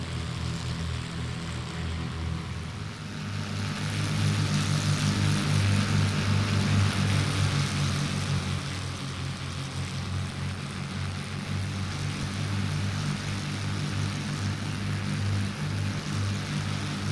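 Cessna propeller aircraft in flight, a steady loud droning engine and propeller hum that swells slightly and holds throughout without pause.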